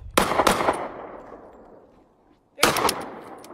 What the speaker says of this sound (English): Get some shots off. Let's go.